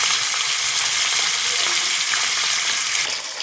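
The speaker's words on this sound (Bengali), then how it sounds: "যে মাছগুলো ভেজে নেব এখন হলদি লবণ দিয়ে মাখিয়ে নিয়েছি।" Turmeric- and salt-coated fish sizzles steadily in hot oil, a dense close crackle that holds evenly throughout with no talking.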